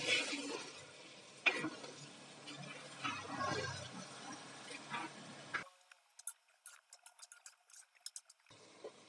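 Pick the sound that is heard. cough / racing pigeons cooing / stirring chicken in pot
stirring chicken in pot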